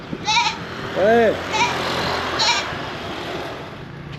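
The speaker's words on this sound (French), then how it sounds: "Puis il y a la chèvre, là." A goat on Sumbawa island in Indonesia bleats several times in short, wavering cries, one louder and closer than the others, under outdoor background noise with a brief word of speech.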